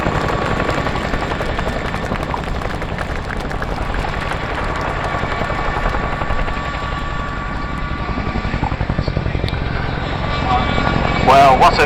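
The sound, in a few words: RAF Chinook helicopter display flight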